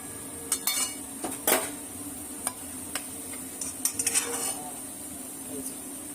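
Food frying in a pan on a home kitchen stove for a Bengali dinner, with sporadic metallic clinks and scrapes of a spoon stirring against the pan over a low, steady sizzle; a few sharper clanks stand out.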